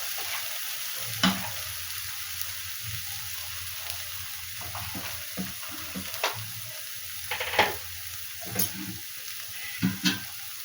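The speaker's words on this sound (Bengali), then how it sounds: "এইবারে আমি এর মধ্যে জল দেবো এবং অনেক না অল্প জল দেবো" Fried spice masala for fish curry sizzles steadily in a pan, with a series of sharp hissing bursts as a little water goes in and the mix is stirred; close and continuous, with no talk.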